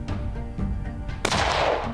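A single sharp rifle shot rings out in open country during a caribou stag hunt. The report is loud and sudden and trails off into a ringing echo, with a low rumble of wind and movement before it.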